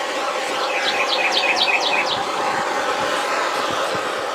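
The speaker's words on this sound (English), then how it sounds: "We got one angry bird." A single agitated bird calls nearby in a quick run of repeated sharp chirps for about two seconds, then falls quiet over a steady outdoor background hum.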